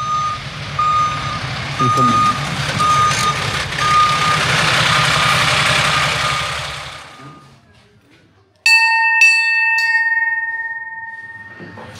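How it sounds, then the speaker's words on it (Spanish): A fire station bell rings twice in quick succession, two bright, ringing metallic strikes that linger after a fire truck's loud reversing beeps and engine rumble fade out. "es una tradición que simboliza 2 toques de campana, es que los que salimos volvimos al cuartel"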